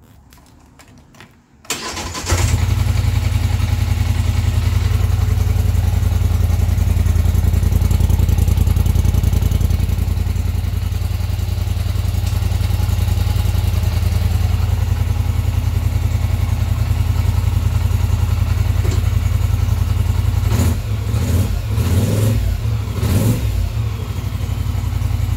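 A 2019 Polaris Sportsman 850 SP ATV engine fires up and settles into a loud, steady idle. Several short throttle blips come near the end.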